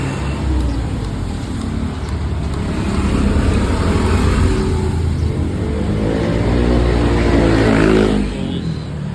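A Yamaha Aerox scooter fitted with a power pipe exhaust revs loudly and close by, its buzzing engine note climbing and falling over a steady idle, with a rising rev near the end.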